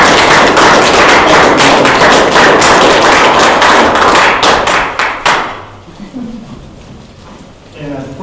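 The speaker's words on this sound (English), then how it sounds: "I just want to give him a round of applause" Applause breaks out at a county board of commissioners meeting, dense clapping from a roomful of people that swells and holds for about five seconds, then stops abruptly, leaving quiet room tone and a faint voice.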